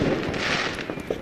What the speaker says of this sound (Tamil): பட்டாசெல்லாம் செட் பண்ணி வச்சுட்டு வெடிக்க பாருங்க.